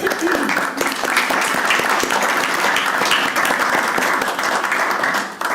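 A radio theater audience breaks into a thick, sustained wall of clapping that stays loud and even throughout before dipping slightly at the very end.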